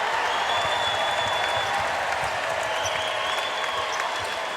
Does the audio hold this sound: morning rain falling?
no